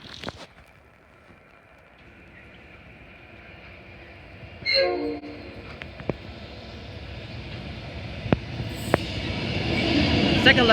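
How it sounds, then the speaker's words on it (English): A long PN coal train hauled by four locomotives passes a station platform, starting as a faint rumble and building into louder rolling wheel and wagon noise, with a brief tonal burst and a few sharp clanks along the way. "It's the PN coal train."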